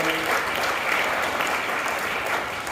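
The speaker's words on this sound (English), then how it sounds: "let's have a massive round of applause" At the 2023 National Healthy Housing Awards, an audience gives sustained applause, a thick, steady clatter of many hands that holds level and eases slightly toward the end.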